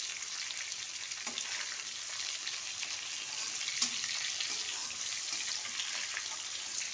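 Prawns frying lightly with salt and turmeric in a pan, a steady soft sizzle running evenly throughout with a couple of faint utensil knocks, no talking.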